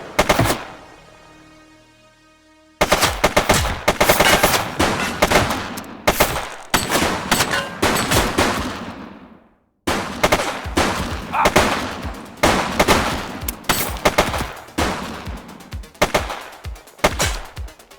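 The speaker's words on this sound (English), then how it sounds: "He's shooting!" Loud gunfire in the video game The Precinct: rapid automatic bursts and single shots crack in dense volleys, broken by a few short lulls and one near-silent gap, with no talking.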